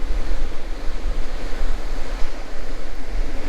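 Sea waves break and wash on the beach at Spurn Road on England's east coast, a loud continuous roar of surf mixed with buffeting wind on the microphone, close and unbroken.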